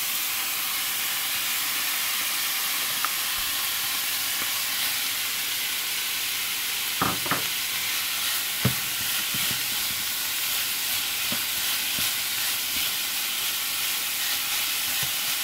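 Minced beef fries in a pan with a loud, unbroken hiss and sizzle that holds throughout, broken only by a few brief clicks and taps of a utensil; no one talks.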